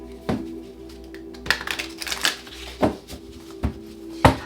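Tarot cards riffle and slap together in several quick bursts, close and moderately loud, with softer shuffling rustles between them.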